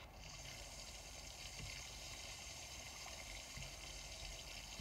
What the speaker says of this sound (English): It's raining again, so you can hear that rain shower